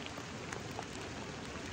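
Steady rain falls through a redwood forest in Henry Cowell Redwoods park, an even, close hiss of drops on leaves and ground that never lets up and carries no voices.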